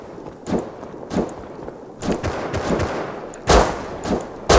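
Video game gunfire comes in about six separate loud bursts of shots at irregular intervals, with quieter rustle and movement between them and no talk.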